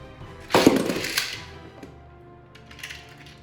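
A Beyblade Burst Superking spinning top snaps off its launcher with a sharp ratcheting burst, then whirs and rattles briefly on its own.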